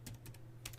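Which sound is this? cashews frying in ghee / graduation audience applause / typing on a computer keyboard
typing on a computer keyboard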